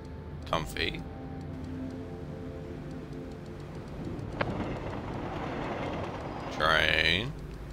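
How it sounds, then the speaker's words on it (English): A train rumbles in the video game A Memoir Blue: a steady, low rolling drone with a single sharp clank partway through, and brief bursts of a voice at the start and near the end. "Train."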